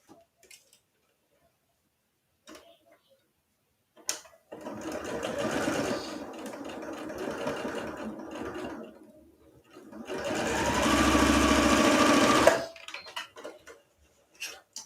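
A home sewing machine stitches the seams of beginner pajama pants and sounds in need of cleaning and oil. It makes two long, steady, close runs of whirring, rattling stitching, separated by a short pause, with brief quiet moments before and after.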